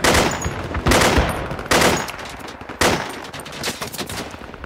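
Gunfire in Project Reality combat on the Kokan map, with several loud bursts of rapid automatic fire at roughly one-second intervals and a continuous crackle of shots in between.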